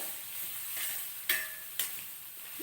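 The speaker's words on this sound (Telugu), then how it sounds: "అండ్ ఇప్పుడు దీన్ని బాగా కలిపేస్తాము చూడండి బాగా" Bean and coconut curry being stirred in a pan, a soft steady scraping with faint sizzling and two sharper utensil knocks against the pan.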